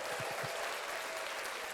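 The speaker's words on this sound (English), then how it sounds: "If I had the applause," A short burst of clapping from an applause sound effect, faint and steady, lasting under two seconds.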